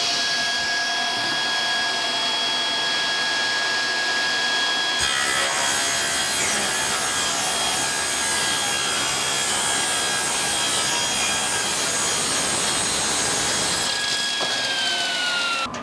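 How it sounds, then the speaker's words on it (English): A jointer machines the edge of a wooden tabletop board, a loud steady whine and rush of cutting running almost the full length, with the bare motor tone heard briefly at the start and end. "we first need to run it through the joiner one time"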